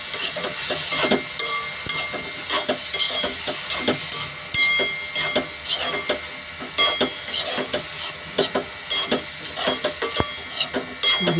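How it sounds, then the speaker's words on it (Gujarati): Chopped green garlic sautéing in ghee over a low gas flame, a constant close crackling sizzle with frequent rhythmic scraping and tapping from a spatula pressing it down, no speech. "તો એમાં આપણે લસણને સાંતળવાનું છે।"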